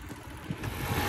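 Yamaha motorcycle engine fitted with a 4mm kit running in second gear, a steady mid-pitched drone that swells slightly louder toward the end, close by with no talk.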